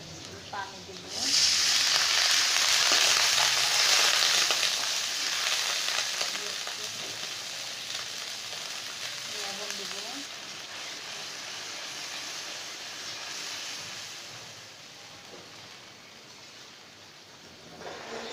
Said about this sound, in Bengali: পেঁয়াজটা একটু ভেজে নেব একটু লাল হলেই